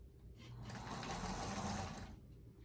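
A sewing machine runs steadily for about two seconds, stitching a quarter-inch seam along a line on a table runner block made of quilting fabric, with the motor hum rising in and fading out close by.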